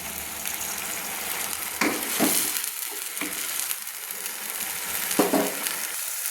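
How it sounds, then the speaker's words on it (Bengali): Onion paste sautéing in oil over a medium flame, a steady close sizzle and fry with a few louder spatters and stirring scrapes, no voices. "পেঁয়াজ দুটো দিয়ে দিলাম। দিয়ে আমি মাঝারি ফ্লেমে কিন্তু কষিয়ে নিচ্ছি।"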